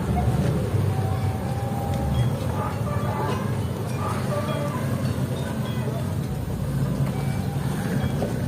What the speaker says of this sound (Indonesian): Ini dia mobil pengantinnya sudah baru nyampe karena mungkin ada kendala katanya di jalan.